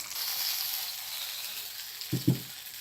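A steady hiss of sizzling as a tempering is added to boiling tomato rasam, then a couple of louder bursts near the end as it hits the hot liquid.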